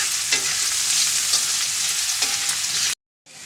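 Garlic and spice paste fry in hot oil with a loud, continuous close sizzle and a few stirring scrapes, cut off abruptly near the end before resuming briefly.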